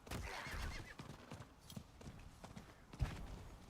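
A horse whinnies near the start in Diablo 4 while hooves clop unevenly, with one sharper thud later; the whole scene is fairly quiet.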